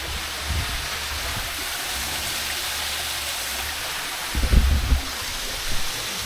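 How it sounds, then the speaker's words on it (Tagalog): Steady broadband roar of a waterfall rushing continuously at a Bali hills resort, with a few low thumps near the end. "Tunog ng falls, bago matulog, maririnig mo."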